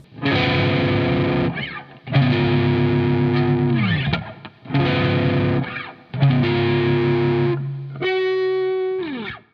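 Distorted electric guitar chords ring out in four sustained strums with brief gaps, ending on a cleaner, higher chord; loud and close, no talking.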